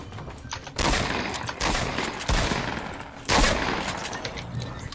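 Rapid gunfire in Fortnite bursts out in several loud, close volleys separated by brief gaps, sounding like sustained automatic shooting.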